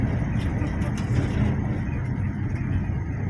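A car moving through evening traffic, heard from inside as a steady low road rumble and engine drone with brief higher hiss, without clear voices.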